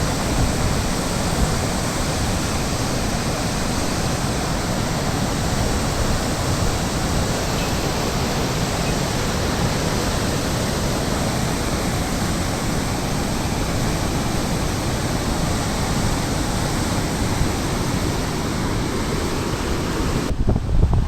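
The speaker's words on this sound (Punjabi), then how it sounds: "ਪਾਣੀ ਦਾ ਫਲੋ ਚੈੱਕ ਕਰੋ ਦੋ ਗੇਟ ਖੁੱਲੇ ਹੋਏ ਆ" Water roars through two open flood gates at Harike headworks as a loud, unbroken rushing wash, steady throughout with wind buffeting over it.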